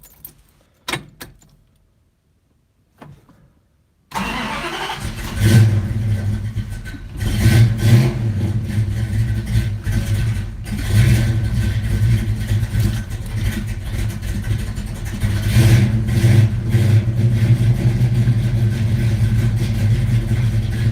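A cold big-block Plymouth Cuda sits quiet for a few seconds after faint key jangling, then cranks and fires into a loud, rumbling idle with repeated throttle blips and revs in a shop.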